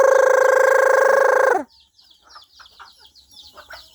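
Hens squabbling: a loud, sustained harmonic squawk for about a second and a half cuts off abruptly, followed by quieter, scattered clucks and rustling.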